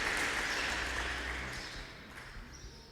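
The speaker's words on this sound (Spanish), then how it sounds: "¿Por qué no les damos un aplauso, amados, aquí en el auditorio?" Auditorium audience at a church service applauds, a steady wash of clapping that slowly fades over a few seconds.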